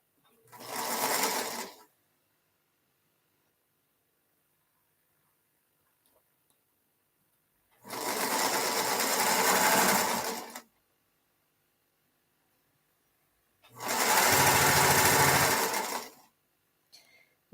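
A sewing machine called Maybelline runs in three separate bursts, one short and two longer runs of about three seconds each, clear and close, with near silence between them.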